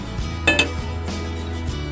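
A metal frying pan being handled while it is coated with oil, giving a few sharp clinks and scrapes of metal early on over a low steady background hum, with no talking.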